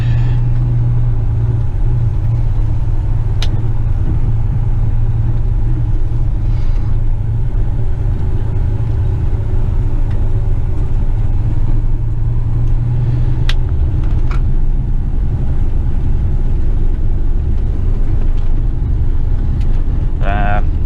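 Western Star tipper dump truck loaded with topsoil, its engine rumbling low and steady from inside the cab as it drives through an old mine site, with a constant drone and occasional clunks.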